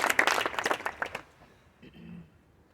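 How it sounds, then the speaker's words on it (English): Brief scattered clapping from a small crowd at an early learning center groundbreaking ceremony, a short ragged burst of hands that fades within about a second, followed by quiet murmuring. "Y'all can clap if you want."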